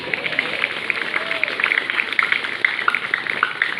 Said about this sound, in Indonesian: berikan tepukan gemuruh kepada pembina upacara